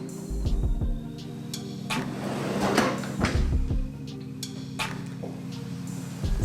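Kitchen drawers and cupboard fronts in a Spanish villa slid open and shut several times, giving a series of close, sharp knocks and thuds with soft rolling runs between them, and no talk.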